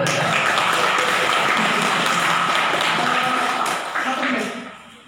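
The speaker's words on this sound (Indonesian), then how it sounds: "Tepuk tangan." Audience applause at an Islamic gathering in Indonesia, a dense steady clapping that runs for several seconds before fading out toward the end, heard fairly loud with some talk mixed in.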